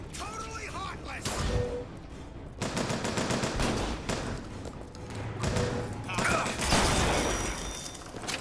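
Shotgun blasts in the video game BioShock Infinite: Burial at Sea, sharp loud reports among dense gunfire and combat noise, with voices talking over the action.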